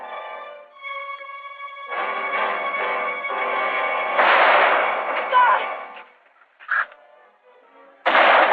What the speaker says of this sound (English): Wait for McCain to fire